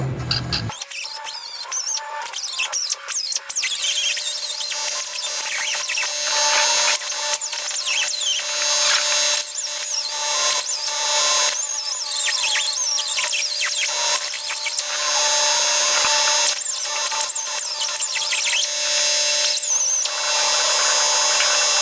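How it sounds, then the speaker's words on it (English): A die grinder cuts through a weld on a Suzuki Samurai steering stabilizer mount, giving a continuous high-pitched whine with a rough, scratchy edge that rises and falls as the tool bites into the metal, steady for the whole stretch. "if I take my die grinder here and I cut right in there on both sides, that should release the weld"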